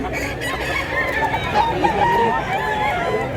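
Roosters crow at a chicken market in Mantalungon, Cebu, with several drawn-out crows overlapping amid clucking and background voices.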